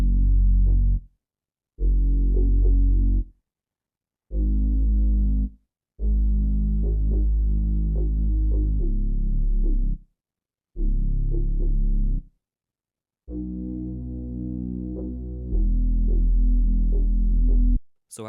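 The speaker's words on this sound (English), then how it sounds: "I wanted to add a sub that felt like it matched it in its tone." A deep, loud sub bass following the root notes of a smooth R&B melody, playing in separate sustained notes with short silent gaps between them, heard alone.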